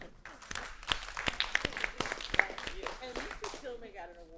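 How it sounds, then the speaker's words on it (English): A board meeting audience gives a short round of clapping, quiet and scattered sharp claps that fade out before a voice starts talking near the end. "Let's give her a round of applause."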